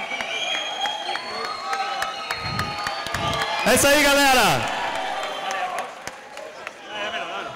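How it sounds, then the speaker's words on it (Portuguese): A crowd applauds and cheers at the opening ceremony of Campus Party Brasil 3, a loud, sustained wash of clapping with a rising whoop in the middle while someone talks over it. "Um aplauso muito forte."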